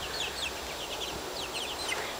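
Chickens and roosters in a backyard coop and cage cluck and chirp continuously, a busy flock of overlapping calls heard at moderate distance with no talking.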